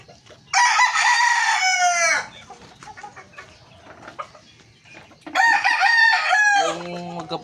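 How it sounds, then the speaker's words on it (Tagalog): Backyard farm chickens, including an alien round head breed: a rooster crows loudly twice with a long, ragged call, with soft clucking and scattered farmyard noises in the quieter gap between crows. "Itong pinakamabait ng manok, itong alien round head, ito."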